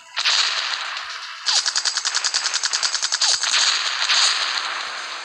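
Rapid automatic gunfire in a video game, loud bursts of machine-gun fire with a fast rattling rhythm, an opening blast, then a long stuttering volley followed by more sustained shooting with echo.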